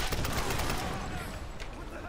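Gunfire in the video game Tomb Raider (2013): dense, continuous bursts of shots over a loud, busy mix, with a voice talking through it.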